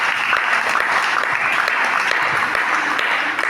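Congregation applauding during a French-language church worship service, a steady dense wash of clapping that fills the whole stretch evenly, with a few voices blended faintly underneath.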